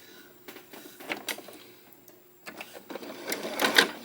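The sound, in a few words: sewing machine stitching quilt pieces together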